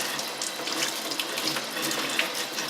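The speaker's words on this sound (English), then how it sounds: "you're going to come back and give them one more rinse off, just to make sure there's no contaminants on your carrots" Water runs steadily from a kitchen faucet over peeled carrots being rinsed before pressure canning, a continuous close hiss and splash with no voices.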